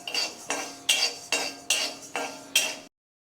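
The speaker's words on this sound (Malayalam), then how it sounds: "അതിനുശേഷം ഉഴുന്ന് നമുക്കിട്ട് ഫ്രൈ ചെയ്തെടുക്കാം" Urad dal frying in a pan while a spoon stirs it: six rhythmic scraping strokes, close and fairly quiet, then silence.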